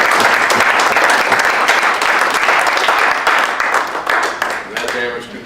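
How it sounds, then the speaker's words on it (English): A crowd at a 2014 Las Vegas reunion muster of the 24th/16th Engineer Battalion (Combat) claps loudly and densely, sustaining the applause before it thins and fades near the end. "deserves a big round of applause"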